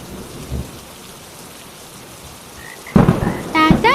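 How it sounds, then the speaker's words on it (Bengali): Heavy rain begins to fall outdoors under a tree, a dense steady hiss of drops that swells louder, with a brief voice breaking in near the end. "এই যা, বৃষ্টি তো শুরু হয়ে গেল।"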